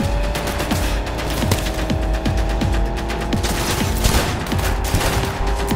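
Dense, rapid gunfire in a shooting video game, a steady rattle of overlapping shots that stays loud and close throughout with no talking.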